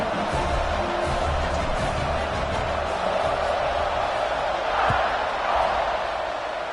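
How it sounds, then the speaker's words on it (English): Stadium crowd in College Football 26, an Alabama home game against Mississippi State, keeps up a steady, dense roar and murmur before a kickoff, with no single voice standing out. "this crowd is buzzing after that last score"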